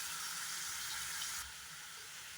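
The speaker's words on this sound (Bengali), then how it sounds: "এখন 2-3 মিনিট ভালো করে ফ্রাই করে নেব।" Carrots, potatoes and green chillies frying in a pan with salt and turmeric, a quiet steady sizzle that drops slightly in level partway through, with no voices.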